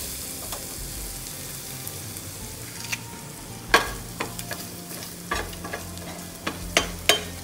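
Spices tempering in hot oil sizzle and crackle, with sharp pops and a few stirring clinks scattered over a soft, steady frying hiss.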